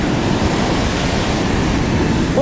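Ocean surf breaking on a sandy beach on the Sendai coast at early morning, heard as a steady, loud, unbroken wash of broadband noise with no voices.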